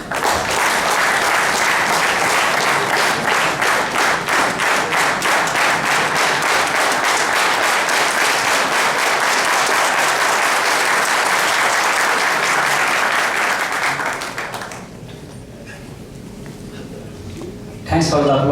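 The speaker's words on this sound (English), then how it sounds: "Thanks for the applause." Large gathering at a telecom open session applauds loudly and steadily for about fourteen seconds, then the clapping fades out, leaving quieter room sound before a voice returns at the end.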